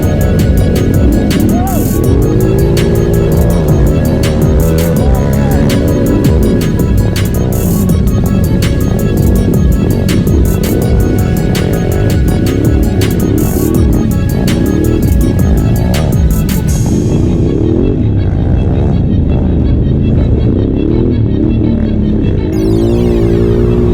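4x4 race vehicles roar through the field in a race, loud engines revving and droning up close in overlapping passes that fade near the end.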